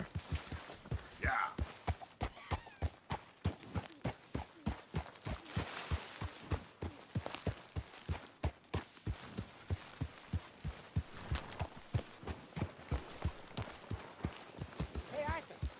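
Horse hooves clip-clop at a steady, rhythmic walking pace in Red Dead Redemption 2, close and clear throughout, with character voices talking over the regular beat.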